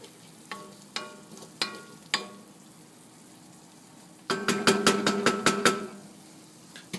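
A spoon scrapes and clacks in a pot of simmering quinoa stew: a few spaced single knocks, then a quick run of rhythmic stirring strikes over a soft bubbling background.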